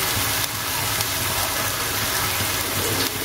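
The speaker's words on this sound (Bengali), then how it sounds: "দেখো আমি আর একটু জল দিয়ে দিচ্ছি" Water is poured steadily into a pot of boiling vegetables cooking with dried bamboo-leaf fish, a continuous close gushing, bubbling rush that holds evenly throughout.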